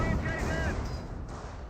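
Browning Automatic Rifle bursts in a Company of Heroes battle between Panzer Elite and US forces, a dense continuous crackle of gunfire with distant booms, played under steady talk.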